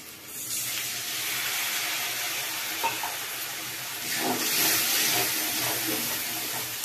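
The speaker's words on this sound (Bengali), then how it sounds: "দিয়ে অল্প একটু জল দেব, দিয়ে এই পুরো মশলাটা ভালো করে কষবো" A ground spice mix with a little water is sautéed in a pan for a vegetarian jackfruit and potato dum. It makes a continuous, close hissing sizzle that swells briefly toward the end.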